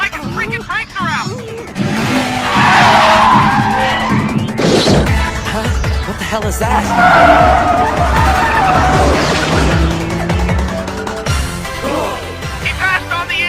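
An AE86 from the anime Initial D tears into a corner, engine roaring and tires squealing in long skids, loud and close, with excited speech over the top.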